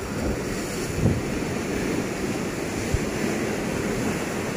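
Ocean surf at Lang Van beach near a rocky headland, a broad steady wash of waves mixed with wind buffeting the microphone, continuous and fairly loud with no voices.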